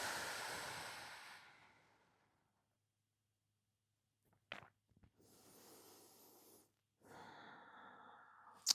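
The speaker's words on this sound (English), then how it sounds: "Take a couple breaths." Slow breathing during a relaxation stretch: a long, soft exhale that fades into silence, then quieter airy breaths and a brief sniff nearby.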